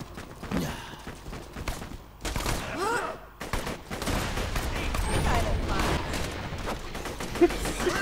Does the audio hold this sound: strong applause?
no